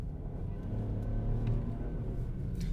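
A 2020 Ford Escape's turbocharged 1.5L three-cylinder engine rises in a steady, rumbling drone as the car accelerates quickly, heard from inside the cabin with continuous road noise and no talk.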